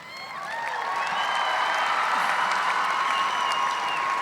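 Sellout record crowd at a Suncorp Super Netball Grand Final, Thunderbirds v Swifts in 2023, breaking into loud sustained applause with scattered cheers that swell and hold steady for several seconds.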